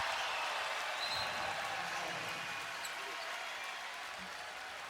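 A college basketball arena crowd at a Tennessee versus Texas A&M game roars in a steady, dense wash of noise that holds throughout at a distance, with faint sneaker squeaks and bounces underneath.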